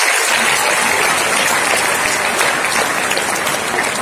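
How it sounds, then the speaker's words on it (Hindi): Sustained loud applause from an audience honoring Special Olympics medal winners at a National Sports Day event, a dense steady wash of clapping with no voices on top. "तो एक बार उनके लिए भी जोरदार तालियां"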